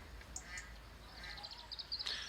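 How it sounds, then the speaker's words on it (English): A noisy duck quacks by a small river in the distance, a run of faint, rapid nasal quacks growing more insistent toward the end, over quiet outdoor background. "you can probably hear in the background a very noisy duck."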